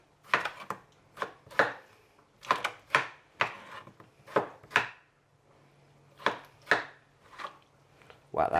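Knife chopping fresh tomato on a board, a dozen crisp, irregular cuts in short bursts with brief pauses, close and clear, no talk.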